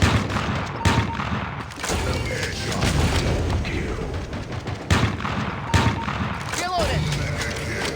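A grenade explosion and rapid gunfire in the shooter game Critical Strike, dense loud bursts of shots and booms crowding each other, with a sharp whistling ricochet and brief spoken game callouts mixed in.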